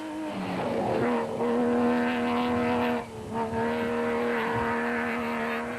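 Race cars in the 2007 Limpopo 400 scream past in a steady, loud engine drone with shifting pitch and brief dips as the cars pass, heard alone without talk.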